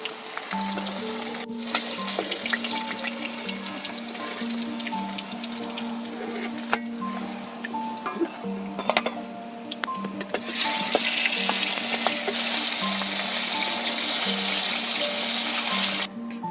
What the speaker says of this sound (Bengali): আলুগুলো ভেজে নিচ্ছি মাছের তেলে